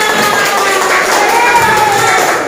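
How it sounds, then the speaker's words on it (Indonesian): Classroom applause for a student named Abiza during a Qur'an Hadith lesson, a dense, steady clatter of many hands clapping close by with a murmur of voices mixed in. "Tepuk tangan buat Abiza."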